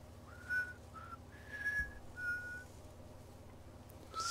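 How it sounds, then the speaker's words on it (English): Sam whistles a melody in the game Death Stranding: a string of clear, bright whistled notes, some short and some held, rising and falling over a low hum and steady background drone, up close and moderately loud. "Whistling the song. Sam whistles that too."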